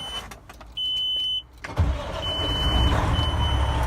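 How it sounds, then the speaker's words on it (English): A car with a sunroof and a cracked body starts up. A brief electric whine is followed by the engine cranking and catching cleanly, then it settles into a steady, close idle. No one speaks. "I'm going to start up the engine."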